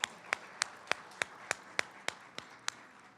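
Steady, evenly spaced handclaps, about eleven in three seconds, ring out at moderate volume over a quiet room murmur, applauding a silver sponsor at a September chamber of commerce lunch.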